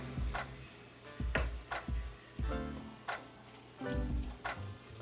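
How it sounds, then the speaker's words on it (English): Ground beef simmering and browning in a pot for bean chili, with a low sizzle broken by repeated scraping stirs of a spoon, close and moderately loud, no voices. "So we're going to let all that simmer and brown up before we add our other ingredients"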